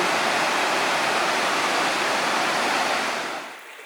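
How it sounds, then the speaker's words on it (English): A small creek along the Hoh River Trail in Olympic National Park rushes with steady broadband water noise, close and continuous, easing off near the end. "we have a little creek running behind us"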